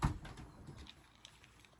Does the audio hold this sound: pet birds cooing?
yes